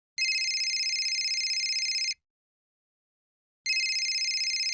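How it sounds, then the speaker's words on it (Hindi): A telephone rings with an incoming call in two bursts of bright electronic trilling, about two seconds each and separated by a pause of roughly a second and a half. It is clear and steady, with no voices. "घर से फोन आ रहा है।"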